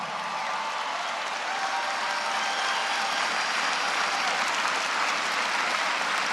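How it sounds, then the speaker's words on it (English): A large rally crowd in Des Moines, Iowa applauds, a thick, continuous wash of clapping from many hands that holds steady throughout with no clear voices. "Give him applause, come on."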